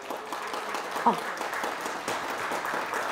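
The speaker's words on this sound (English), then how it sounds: "you should definitely give yourselves a round of applause for that" Community members at a public art conversation break into applause, a sustained round of clapping that stays even throughout, while a brief exclamation cuts through near the middle.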